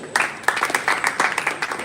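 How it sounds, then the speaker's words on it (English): An audience at a conference applauds, with dense scattered hand clapping at fairly close range and voices mixed in under the clapping. "A round of applause for you, please."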